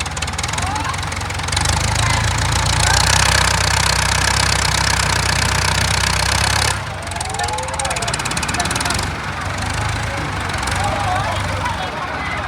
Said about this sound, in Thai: ได้รถไถมาแล้วคันนึง